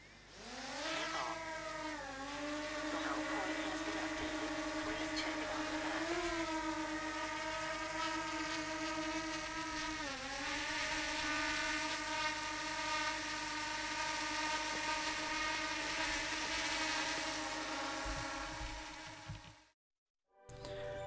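A camera drone takes off and flies above a childhood home, its rotors giving a loud sustained whine that shifts pitch up and down as it manoeuvres, steady for about twenty seconds before a sudden brief dropout.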